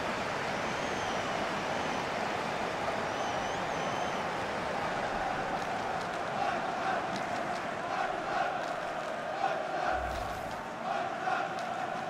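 Stadium crowd in FIFA 23 during a World Cup quarter-final match, a constant roaring, chanting mass of spectators at steady level, with faint sharper cheers rising partway through.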